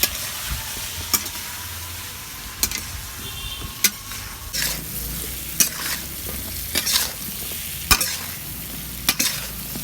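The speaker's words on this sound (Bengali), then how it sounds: "আমি ভালো করে নেড়ে নেব" Spices of chili, cumin, pepper, coriander and salt sizzle steadily in a hot frying pan while a spoon stirs them, with sharp scraping clicks against the pan at irregular intervals.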